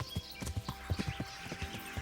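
Horse hooves clip-clop in a steady quick rhythm along a road in the Kingdom Come Deliverance video game, a series of close, distinct thuds with no talking.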